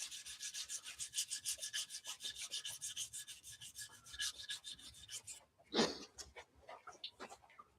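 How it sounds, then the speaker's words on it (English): Hand sanding with 320 grit sandpaper, rapid rhythmic back-and-forth rasping strokes, close and fairly quiet, broken by a brief louder scrape before the strokes resume. "And this is just 320 sandpaper. Just take it off."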